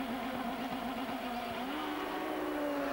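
An IndyCar engine at the 1998 CART race in Miami sputtering as the car stops at its pit, an uneven, rough idle with a wavering hum and irregular misfire pops, continuous and fairly loud.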